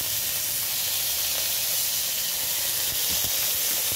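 Soy sauce sizzling in a hot pan with chilli fries, coriander and red chilli: a loud, continuous bright hiss of steam and frying, steady throughout with faint spatters and clinks underneath.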